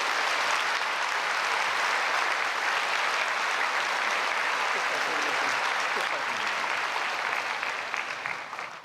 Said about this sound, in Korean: 여러분 나오실 때 크게 박수로 환영해 주시면 감사하겠습니다.